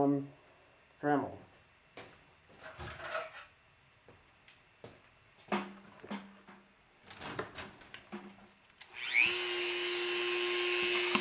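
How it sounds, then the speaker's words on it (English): A Dremel rotary tool spins up and starts cutting into the casing of a GoPro camera. A steady, high-pitched whine arrives near the end, after bursts of handling noise, clicks and a person talking. "Dremel."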